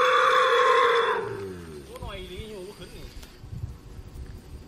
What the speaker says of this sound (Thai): ได้ยินเสียงเนี่ยคือร้องเรียกหาแม่ตลอดเลยนะคะเป็นลูกช้างป่าอายุประมาณ1เดือนค่ะ